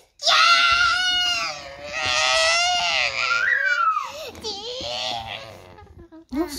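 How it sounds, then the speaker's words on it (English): A child screams shrilly and loudly in long, wavering bursts, close by, with a brief pause and another short yelp at the end. "No screaming."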